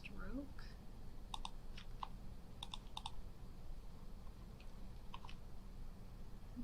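Computer mouse clicks during vector drawing in Adobe Illustrator: soft, scattered clicks, some in quick pairs or small clusters, faint above a steady low room hum.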